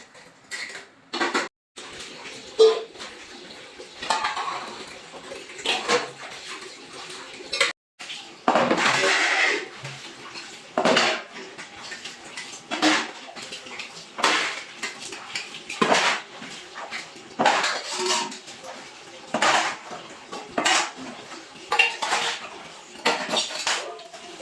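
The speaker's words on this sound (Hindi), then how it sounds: "चलिए बर्तन धो लेते हैं जल्दी जल्दी" Dishes, pots and cutlery being washed by hand at home, with steady clattering and clinking of metal utensils, splashes and scraping in irregular bursts throughout, fairly close and loud, with no talk.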